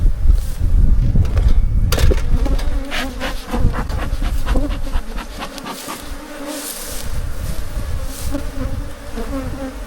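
Honey bees buzz loudly and close at an open smart hive during a spring inspection, a dense continuous drone with some faint knocks and handling sounds early on.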